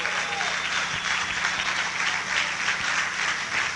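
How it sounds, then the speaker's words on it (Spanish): A church congregation at an evangelical Spanish-language service applauds in a sustained, even wash of many hands clapping at once, moderately loud and filling the room without pause, with no preaching over it. "Dale un aplauso a Jesucristo."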